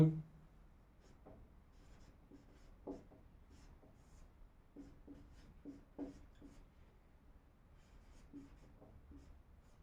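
Chalk or marker scratching on a board during a lesson, short faint strokes in bursts across the whole stretch, with a quiet room behind and brief vocal noises.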